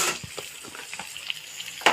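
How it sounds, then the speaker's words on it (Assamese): Chicken pieces sizzle and crackle in a hot pan with potatoes as they are stirred, with scattered scraping strokes and a louder clatter near the end, close and moderately loud with no talking. "এয়া গাইজ মাংসখিনি এতিয়া ভালকৈ লৰাই দিছোঁ"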